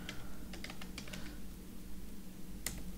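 Faint, close keyboard typing as an Ubuntu Linux terminal command is entered, a short burst of light clicks followed by a pause and one final sharper tap.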